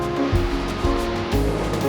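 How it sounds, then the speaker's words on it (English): The River Itchen rushes steadily past the Winchester city mill, a loud, continuous wash of flowing water with slight surges. "This is the river Itchen."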